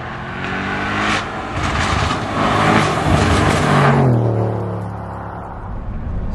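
Tuned Audi S8 D4 limousine with a Milltek exhaust accelerating in comfort mode, a loud, continuous close-up engine roar and exhaust drone that builds, then falls away toward the end.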